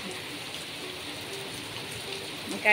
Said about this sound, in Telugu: చూస్తున్నారా భలే ఉంటుంది వర్షం పడేటప్పుడు ఇలాగా